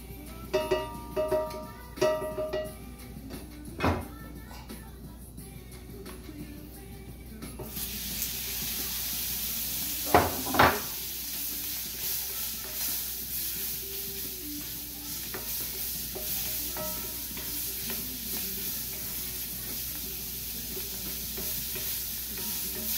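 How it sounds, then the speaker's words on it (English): A bouillon cube is stirred and broken up in oil in a hot wok, with steady close sizzling and frying under scraping stir strokes and a few sharper clatters, no talk. "gonna start with some oil and our hot wok. I'm gonna add some of our bouillon cube"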